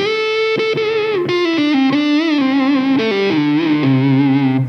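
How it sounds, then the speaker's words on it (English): A warm, mellow Epiphone Les Paul Custom electric guitar on the neck pickup with the tone control rolled down plays a melodic line with bends and sustained notes, smooth and rounded with the treble softened. "if you want neck pickup tones, as you've heard, just roll the tone control down"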